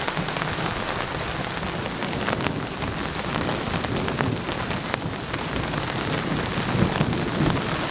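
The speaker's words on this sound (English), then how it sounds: "We are surrounded, apparently, by thunderstorms." Steady rain patters and hisses on leaves and surfaces in a dark forest at dusk while thunderstorms surround the spot, a low rumble running beneath the continuous downpour.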